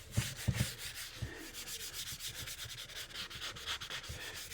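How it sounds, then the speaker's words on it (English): Light hand sanding on an old steering wheel, close repeated back-and-forth abrasive strokes in a steady rhythm, quiet and alone, with a few soft knocks at the start. "Just a light sand down, a little bit more on this top piece here"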